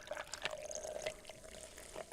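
San Pellegrino sparkling water pours and fizzes close up, a steady liquid rush with bright crackling bubbles running through the whole stretch.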